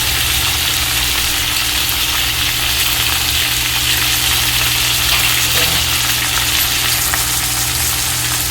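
Chopped green chilies fry in hot oil in a pan for a village-style rohu fish head and tomato chutney: a loud, unbroken sizzle with a low, steady hum underneath.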